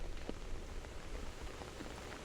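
Raindrops fall against a window in a steady, soft patter of small taps, close and gentle, with no voices.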